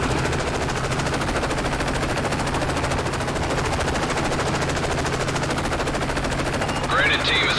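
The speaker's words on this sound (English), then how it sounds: "We're taking fire!" Rapid, sustained machine gun fire from the Call of Duty Modern Warfare 3 video game, loud and steady throughout, with a brief higher-pitched burst near the end.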